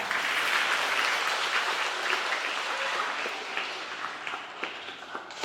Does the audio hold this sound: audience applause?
yes